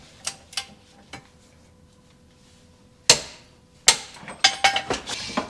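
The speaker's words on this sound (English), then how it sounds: "now we're going to torque this down to 134 foot-pounds of torque" A torque wrench snaps out sharp metallic clicks while tightening wheel lug nuts on an Accord coupe after a 5-lug swap. A few isolated clicks come first, then a quicker cluster of clicks near the end.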